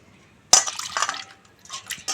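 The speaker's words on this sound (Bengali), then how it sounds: "এভাবে ভালো করে ধুয়ে নিতে হবে।" Flour dough is squeezed and washed in a bowl of water, giving close, splashy bursts of sloshing and dripping with a short quiet pause between handfuls.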